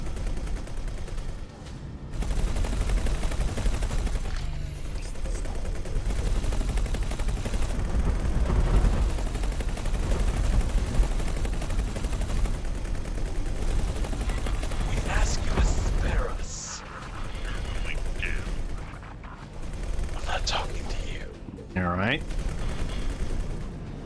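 Sustained, heavy barrages of spaceship weapons fire in the space game X4 Foundations, loud and continuous for long stretches and broken by short gaps, with people talking over the battle noise.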